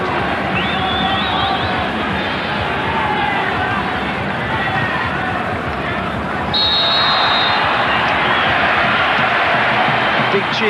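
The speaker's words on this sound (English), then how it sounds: "Big cheer goes around the ground as the referee gets one right." A stadium crowd roars and cheers throughout a World Cup qualification play-off football match between Australia and Canada, the dense noise swelling louder partway through while a commentator talks over it.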